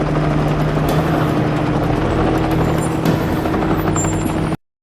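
A helicopter in an X-Files episode set in New Mexico drones steadily and loudly with a low rotor throb and broadband engine roar, continuous until it cuts off abruptly.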